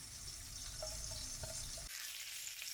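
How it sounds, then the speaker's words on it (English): Steady, soft sizzling of beef cutlets with herbs frying in a covered pan, a continuous hiss with faint crackles and no voices. "They have been frying under cover"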